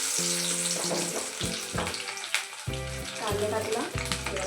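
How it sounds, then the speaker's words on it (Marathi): Onion hits hot oil in a pan while making homemade hair oil, giving a loud close sizzle and crackle over a low steady hum. "बघा तेल गरम झालं आहे. अगोदर कांदा टाकते."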